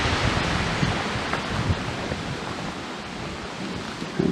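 Steady wind sweeping over a mountain ridge on Mt Passaconaway, a continuous broadband rush with faint gusty swells and occasional buffeting against the microphone, no voices.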